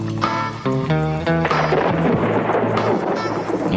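Heavy thunder rumbles over steady rain, with tonal music or sustained notes layered on top; the storm noise stays loud and continuous throughout.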